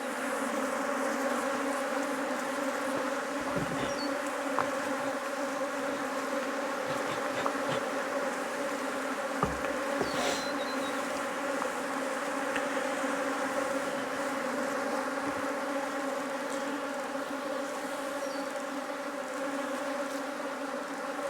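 Honey bees buzz around an opened top bar hive during an inspection, a dense continuous drone close by with individual bees passing near, steady throughout.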